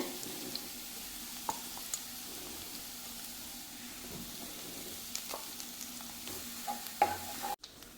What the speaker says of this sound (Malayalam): ഞാൻ അതിട്ട് ഇനി വറുക്കുകയാണ്